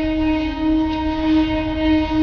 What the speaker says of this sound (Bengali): আর পাশ থেকেই পাওয়া যাচ্ছে ট্রেনের আওয়াজ